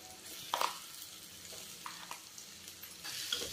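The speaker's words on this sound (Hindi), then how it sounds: "गैस को अब हम लो फ्लेम पे कर देंगे और थोड़ी देर ऐसे ही चलाते हुए आलू को फ्राई करेंगे।" Potatoes fry in a pan with green chilli and browned onion over a gas flame, a steady sizzle broken by a few scraping stirs of a spoon against the metal.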